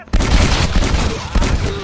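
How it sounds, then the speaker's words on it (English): Close shotgun blast in Red Dead Redemption, a heavy burst of gunfire that stays loud through most of the moment with a second punch near the end, over dense game sound. "You will not survive that shotgun blast that close."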